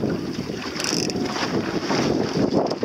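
A small Optimist dinghy tacks in open water, its sail flapping and luffing over a steady roar of wind buffeting the microphone, with water lapping close by.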